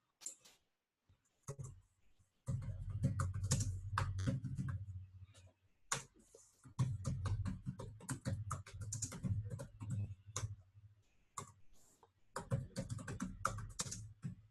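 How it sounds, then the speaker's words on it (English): Code being typed on a computer keyboard during a Divi website header webinar, a steady, close run of quick key clicks in bursts with short pauses, fairly loud and continuous. "if I throw other questions at you while you're typing code, will that derail you, SJ?"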